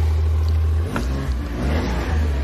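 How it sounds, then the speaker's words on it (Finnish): A turbocharged BRABUS car engine revs up and settles, a loud close rumble that swells and dips over a couple of seconds. "Kuuntele, kun turpa laulaa kohta."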